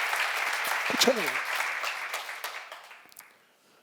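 Congregation clapping at a church seminar, a broad steady wash of applause that fades out toward the end, with someone speaking briefly over it.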